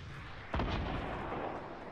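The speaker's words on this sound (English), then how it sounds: "We're getting rocketed from somewhere." A single heavy rocket blast in a Fortnite Battle Royale match booms out with a deep, loud impact and a rumbling tail, over a constant background hiss.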